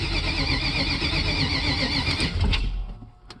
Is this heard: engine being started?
yes